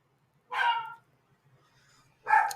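A dog barks twice, with a short sharp bark, a pause of over a second, then a second bark, fairly close in an otherwise quiet indoor room.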